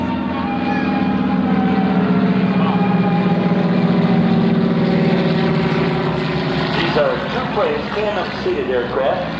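Two Beechcraft T-34 tandem-seat propeller trainers fly in, a steady loud droning engine and propeller hum with harmonic tones that shifts as they approach, with a voice talking over it throughout.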